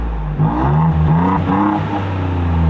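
A tuned car fitted with a Borla exhaust and more than 150 horsepower over stock revs loudly and steadily up close, its deep engine drone rising and falling with no voices over it.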